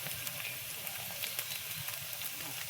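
Chicken chow mein ingredients fry in a pan with a steady, close sizzle and soft crackling pops, while a voice speaks quietly underneath.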